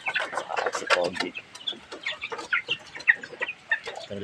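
A small group of chickens clucks busily close by in a dense stream of overlapping calls, with a voice speaking faintly under them.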